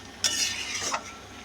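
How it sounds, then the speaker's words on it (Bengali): A spoon stirs ash gourd curry in a pan just after the lid comes off, making a brief soft scraping swish and a faint sizzle, quiet and close, with no speech. "ঢাকাটা খুলে একটু নেড়ে চেড়ে দিচ্ছি"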